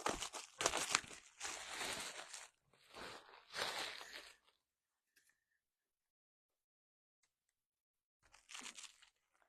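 Thin, lightweight pattern paper crinkles and rustles loudly in several close bursts as it is handled and pinned onto fabric, followed by a long quiet stretch and one last crinkle.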